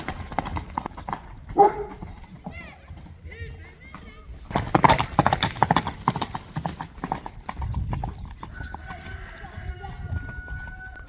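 A Kyrgyz horse runs, its hooves clip-clopping on the ground at a rapid pace, with people talking loudly over the hoofbeats.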